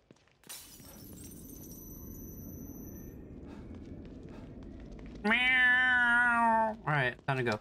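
A cat meows loudly and drawn-out in The Evil Within 2, preceded by a sharp glass-like crash and a quiet ambient stretch, ending with a shorter second meow.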